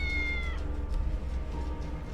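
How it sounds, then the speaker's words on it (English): A cat meows once, clear and high, in the video game Tales of the Neon Sea, then fades into a low steady background hum. "I'm sure it's a cat meowing"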